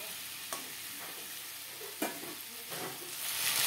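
Eggplant and other vegetables with spinach and pumpkin sizzle in a frying pan, with a steady crackle and several sharp scraping stirs of a spatula, growing slightly louder toward the end.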